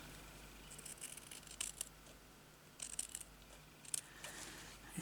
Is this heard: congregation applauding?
no